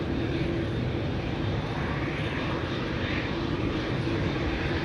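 A Boeing 737 at Amsterdam Schiphol Airport, a continuous, dense jet engine rumble and roar at steady moderate loudness, mixed with wind, with no voices.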